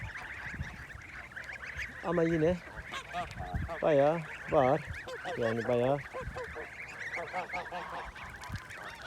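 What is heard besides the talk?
ducks calling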